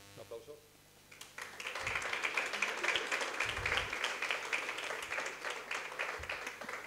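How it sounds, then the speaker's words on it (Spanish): Audience at a sports-fan association congress breaking into sustained applause, a dense steady clatter of many hands rising after a brief pause and continuing, fairly distant in a large hall. "Un aplauso."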